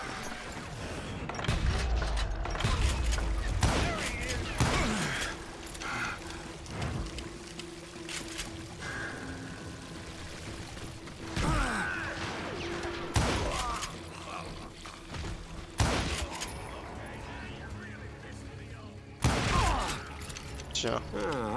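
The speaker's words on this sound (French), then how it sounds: "Oh, c'est quoi ce pistolet de fou?" Pistol shots ring out in Call of Juarez Gunslinger, sharp loud reports scattered irregularly among game sounds, with someone talking between the shots.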